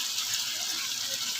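Water poured into a pan of pumpkin and Malabar spinach being cooked, making a steady, close hiss-like splash that lasts throughout with no talk over it.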